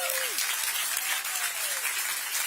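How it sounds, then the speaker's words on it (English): A crowd at a groundbreaking ceremony for a new Portland Thorns and WNBA training facility claps in a full, continuous round of applause, with a faint whistle-like tone sliding over the clapping. "we're going to do a big round of applause"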